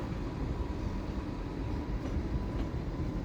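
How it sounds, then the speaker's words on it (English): A two-coach TransPennine Express train at Doncaster station gives a steady, loud rumble of running wheels and engine throughout, with no voices. "This train has 2 coaches."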